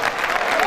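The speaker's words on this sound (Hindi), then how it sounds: "दोस्तों जोरदार ताली हो जाए," Audience applause at a Hindi poetry recital (kavi sammelan), a dense burst of clapping from a crowd, steady and fairly loud throughout the short moment.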